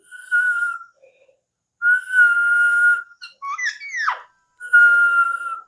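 A person whistles a few long, steady high tones with short gaps, plus a quick run of sliding, warbling notes in the middle, close and loud.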